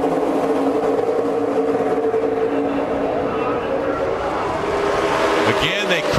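Monster Energy NASCAR Cup Series race cars thunder around Daytona International Speedway in a 2017 overtime finish, a dense continuous engine roar from the pack, with a car sweeping past near the end.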